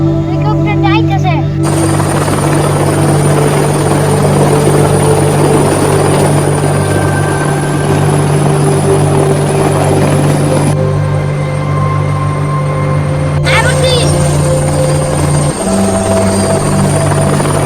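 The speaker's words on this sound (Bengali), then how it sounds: "ওই তো হেলিকপ্টার যাইতেছে" A helicopter roars close and loud throughout, its steady rotor and engine drone dominating, with brief shifts in tone as it passes and people talking beneath the noise.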